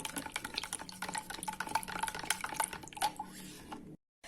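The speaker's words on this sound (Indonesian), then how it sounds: "Ini kita aduk sampai garamnya larut" A spoon stirs salt into milk in a bowl, making a steady run of soft scraping clinks and liquid swishes, close and quiet, before the sound stops abruptly.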